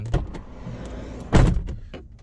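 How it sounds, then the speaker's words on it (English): The driver's side door of a 2004-2006 Scion xB clunks shut with one solid, close thud, set among quieter handle and latch clicks in a still, enclosed space. "close and open the driver's side door twice"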